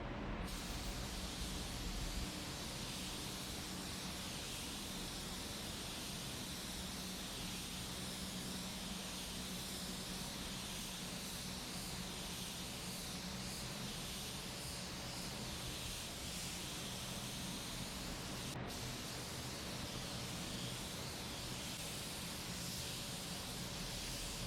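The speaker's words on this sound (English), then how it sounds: "I'm spraying everything in the front end with the color" A spray gun lays base coat paint onto the front end of a 1966 Chevy Nova, giving a continuous even hiss that runs steadily for over twenty seconds with no talking.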